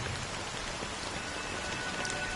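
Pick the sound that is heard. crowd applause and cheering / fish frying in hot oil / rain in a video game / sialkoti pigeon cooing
rain in a video game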